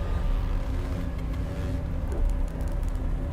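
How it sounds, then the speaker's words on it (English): A simulated gravitational-wave sound of a light black hole falling into a very heavy one, heard as a steady, dense low rumble with faint higher ticks, loud and continuous throughout. "The sound you're hearing is a light black hole banging on space each time it gets close"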